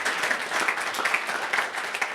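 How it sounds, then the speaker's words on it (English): An audience at a California State Assembly event applauds in a dense, steady burst of many hands clapping at once. The applause holds an even loudness throughout with no talk over it. "please, again, a round of applause to Assemblymember Medina"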